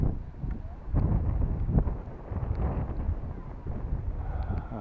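Wind gusts across an open kite flying field, buffeting the microphone in rough, low rumbling surges that rise and fall irregularly.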